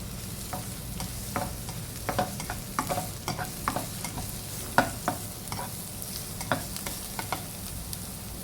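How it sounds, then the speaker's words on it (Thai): Chili and garlic stir-fry in hot oil over medium heat, a continuous sizzle punctuated by frequent quick spatula scrapes and clicks against the pan in an uneven rhythm. "ใส่พริกกระเทียมลงไปก่อน ผัดกระเทียมให้หอมเลยนะคะ"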